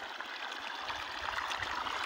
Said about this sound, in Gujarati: અને બીજી વાણમાં આપણે પાણી ચાલુ કરી નાખ્યું છે